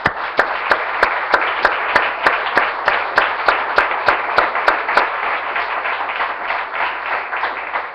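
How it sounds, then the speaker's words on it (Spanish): A church congregation applauds, steady dense clapping from many hands filling the room, with a sharp regular tapping beat over it for the first five seconds, then the clapping alone, no talk. "Démosle un aplauso al Señor, hermano."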